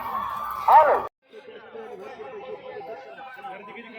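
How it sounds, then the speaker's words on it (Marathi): A dense crowd murmurs and chatters at a Khandoba temple fair (yatra) in Loni Dhamani, with a louder burst of voices and laughter early on, then a brief drop before the busy, mid-distance chatter resumes steadily. "इथे तुम्ही गर्दी बघू शकता किती गर्दी आहे"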